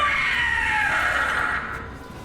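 A monster called the Gloomhowler screams in Dragon Age: The Veilguard, a loud, continuous strained shriek with harsh high overtones that holds for about two seconds, slightly fading near the end.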